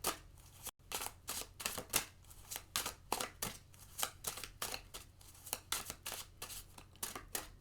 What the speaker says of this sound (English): I got a lot of shuffling.